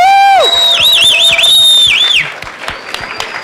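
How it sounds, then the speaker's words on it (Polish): Audience at a panel discussion event whistles loudly with rising and wavering tones, then breaks into cheering and scattered clapping that thins out toward the end. "Możemy mu dać wielkie brawa."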